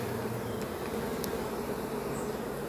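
Bees swarm around beehives in Jamaica while older combs are removed, making a continuous, even buzzing drone with no pauses throughout.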